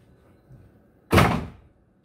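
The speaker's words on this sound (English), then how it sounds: "Close the door." A door closes with a single loud thunk that follows a faint softer knock, then fades into quiet, with no talking.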